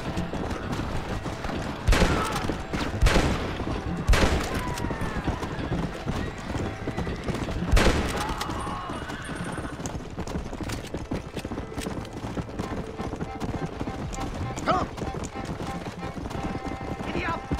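Horse hooves clip-clop at a gallop in Red Dead Redemption, steady and fairly close, with a horse whinny, distant gunfire and a voice urging the animal on.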